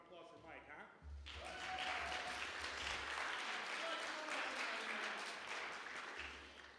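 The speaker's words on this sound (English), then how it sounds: "Big round of applause for Mike," Applause from a congregation at a Sunday church service, a full sustained round of clapping rising after a moment of talk and holding steady before tapering off, with a low hum beneath.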